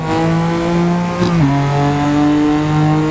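Race-tuned car engine heard from inside the cockpit in the Assetto Corsa driving game, a loud steady droning hum that dips in pitch partway through as the revs drop, continuous and close.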